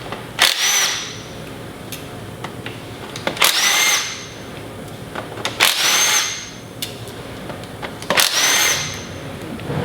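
Four bursts of a power tool spinning out transmission pan bolts on a 2003 Cadillac CTS, each a loud whirring buzz of about a second, spaced evenly with quiet gaps between, close and without talk.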